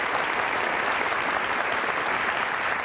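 At a 1990 daytime talk show, a studio audience gives a dermatologist guest a brief burst of full, even applause that stays constant from start to finish.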